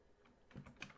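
A few quick keystrokes on a computer keyboard, tapped in a short burst while entering a number into a game's crafting system, close and fairly soft with no talk.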